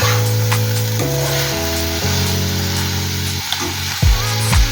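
Ridge gourd curry sizzles steadily in a pan while being stirred, a loud continuous frying hiss with clanks and scrapes of the spoon against the pan.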